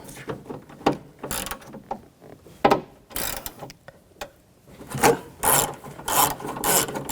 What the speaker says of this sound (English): Using a 8mm socket, take this bolt out.